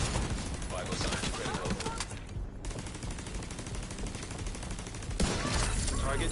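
Automated turret fire in The Division video game, rapid repeated bursts of gunfire rattling almost continuously with a brief lull, busy and dense throughout.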